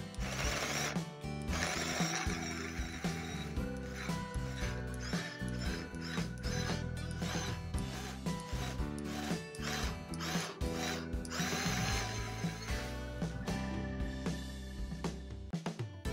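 Small electric food chopper whirring in repeated bursts as it chops garlic, a steady close mechanical buzz with brief pauses between pulses.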